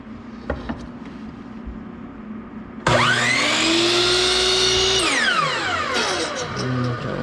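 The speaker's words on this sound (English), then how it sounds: "I'm going to be making multiple trips here to the miter saw" Miter saw cutting wood trim: quiet workshop background, then a sudden loud whining spin-up, a sustained cut, and a falling pitch as the blade winds down.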